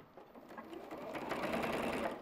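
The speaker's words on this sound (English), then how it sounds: "just sew a line of stitching close to the top" A sewing machine runs a line of stitching along ribbon, a short, quick whirring burst that builds and holds close by, with no talk.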